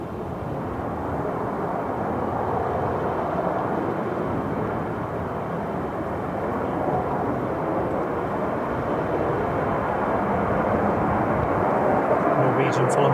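A TUI passenger jet climbing away quickly at a windy Manchester Airport, its engines a steady, broad roar that holds loud and constant throughout with gusty wind noise blended in.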